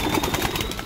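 Pigeons from a champion pair coo in soft, throaty bursts close by, a short run of repeated low calls with no speech.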